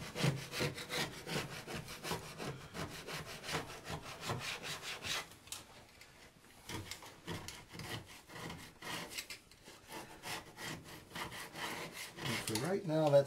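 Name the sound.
chisel scraping caulk off a sink countertop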